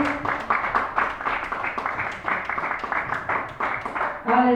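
Church congregation at a Wednesday evening service breaks into rhythmic applause, a dense run of claps at moderate loudness that carries on for several seconds.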